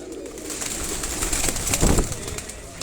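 Pigeons cooing at a house courtyard in Sialkot, low murmuring coos amid a busy noisy background, with voices talking nearby.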